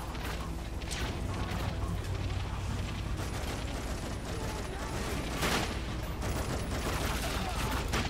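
Gunfire in The Darkness 2 video game, dense rapid bursts and mechanical clatter running nearly continuously at a loud level, with players talking over the shooting.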